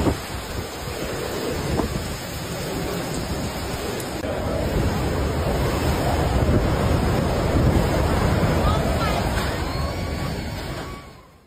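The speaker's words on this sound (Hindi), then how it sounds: "ताइवान में कोंगरे तूफान से भारी तबाही, भारी बारिश के साथ तेज हवाओं से हाहाकार मचा है।" Strong, roaring typhoon wind in Taiwan blows steadily for several seconds, a dense rushing noise buffeting the microphone before cutting off abruptly.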